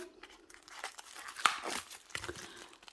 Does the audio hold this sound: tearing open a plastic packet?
yes